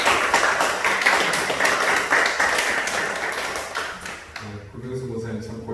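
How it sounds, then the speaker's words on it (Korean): Church congregation clapping in encouragement during a Sunday worship service in Jeju, a steady patter of many hands that stops abruptly near the end, followed by a voice and low tones. "우리 집사님께 격려의 박수 한번 드리겠습니다"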